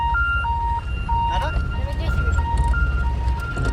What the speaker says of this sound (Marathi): बोंगा वाजू राहिले पाय